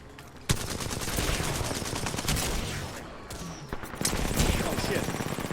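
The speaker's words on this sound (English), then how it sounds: "I just got sniped from on the other side of the building" Gunfire in a console shooter game, sharp loud cracks at the start and again near the end, with a continuous noisy barrage of shots and action sounds in between.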